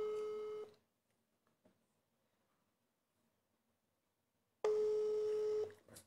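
Telephone calling a second number, two loud steady electronic ring tones about four seconds apart with near silence between them.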